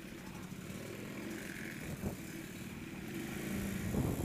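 A Ducati motorcycle rides through busy holiday traffic in Jakarta, with a steady engine drone and road noise that swells slightly louder toward the end, surrounded by other bikes and cars.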